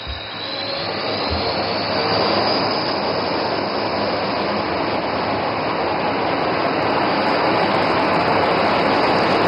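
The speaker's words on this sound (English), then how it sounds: "notice the aircraft is now opening full power" A fighter jet's engine at full power during an Indian Air Force air show makes a loud, steady, unbroken roar that fills the whole stretch, with no talk.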